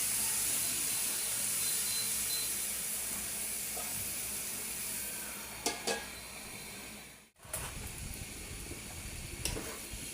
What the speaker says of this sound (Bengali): আলুগুলো আমি একটু সিদ্ধ করে নিই।